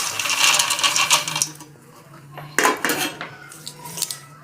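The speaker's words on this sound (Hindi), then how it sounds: "अब हम इसके ऊपर दाने डाल देंगे।" Corn kernels are poured onto hot salt in a metal pan, landing as a loud rattling patter in two bursts with a short lull between, followed by lighter scattered clicks, close and without talking.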